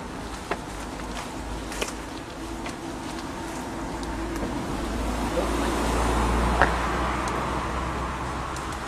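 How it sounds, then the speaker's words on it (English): Continuous road traffic roars past a hydroponic greenhouse beside a road, a steady broadband wash of passing cars with a swelling pass-by midway, loud and constant, with occasional small clicks up close. "Sorry about the traffic noise,"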